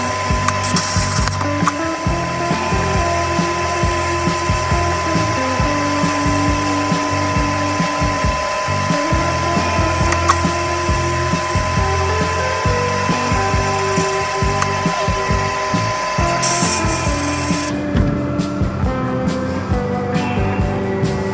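A sandblaster steadily blasts an olive Dublin tobacco pipe, a loud, continuous hissing roar that holds unbroken for about twenty seconds, with a change in texture near the end and no one speaking.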